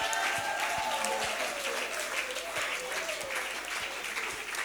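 A church congregation applauds steadily in praise of Jesus, a dense, even wash of clapping with crowd murmur and a voice running underneath.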